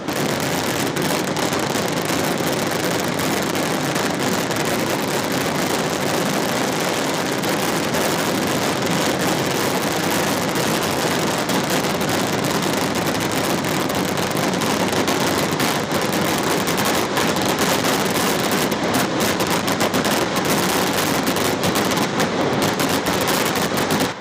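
The Thrissur Pooram fireworks display crackles and pops in a relentless, dense barrage of rapid bangs, loud and unbroken from start to end.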